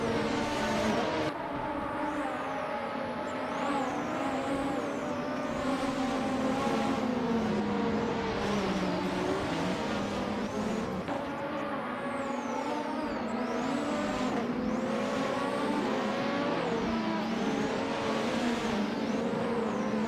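Race cars roaring through a video game race, a steady loud engine drone with rising and falling revs as the pack runs close together throughout.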